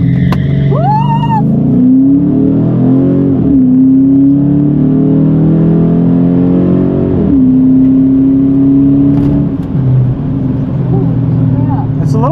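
A car accelerates hard in a drag race, its engine note climbing loudly through rising pitches, dropping at shifts and pulling up again, heard close from inside with brief speech mixed in.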